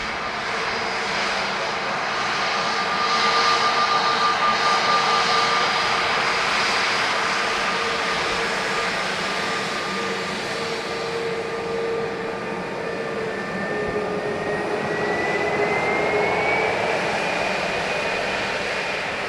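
A large aircraft, an Antonov AN-124, lands at Dublin Airport with a loud, sustained engine roar and broad rushing drone that swells and holds, heard from nearby outdoors with no talking.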